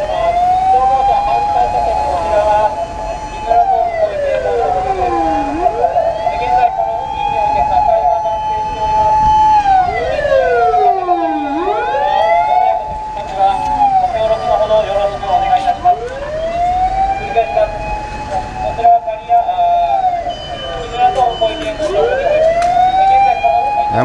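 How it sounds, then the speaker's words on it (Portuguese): Several fire engine sirens in Japan wailing at once, rising and falling in overlapping sweeps, loud and close with traffic rumble underneath. "tá vindo mais viatura de bombeiro ainda"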